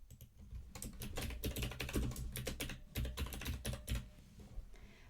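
Rapid, close typing on a computer keyboard as a name is entered into a web app panel, with dense irregular clicks running nearly the whole time and no voices.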